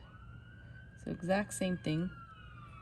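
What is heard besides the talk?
sirens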